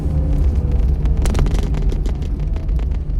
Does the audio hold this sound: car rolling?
yes